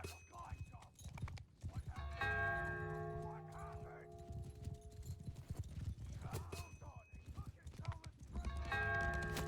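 Cavalry horses in a strategy video game clatter with rapid hoofbeats and a whinny, mixed with bell-like tones and other battle effects under a commentator talking.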